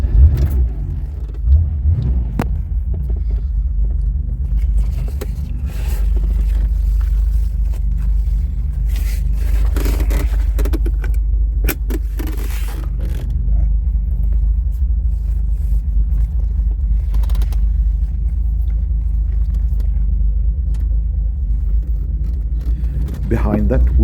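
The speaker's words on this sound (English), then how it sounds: "We're gonna take a short trip, see how the car runs after all these years in the garage." A Ford Taunus Coupe Fastback, back on the road after years in a garage, runs with a steady low engine rumble inside the cabin during a test drive. Occasional scrapes and clicks come through, and voices talk over it.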